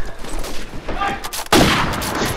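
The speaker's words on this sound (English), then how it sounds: "Yet again that wall bang from Meyer towards that A arch." Gunfire sounds during a competitive video game match: a loud burst of shots is fired through a wall, cutting in sharply after a stretch of quieter game noise.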